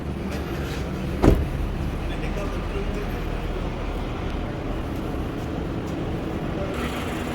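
Idling 2.5-litre engine of a Toyota Camry 75, American-market version, heard with the hood open: a steady, even hum throughout, with one brief sharp knock early on and no talk over it.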